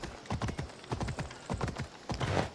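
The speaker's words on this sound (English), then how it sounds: "just casually going through town with a flaming horse" In Assassin's Creed Odyssey, a flaming horse trots through a Greek town, its hooves clip-clopping in a quick, steady rhythm, close and moderately loud.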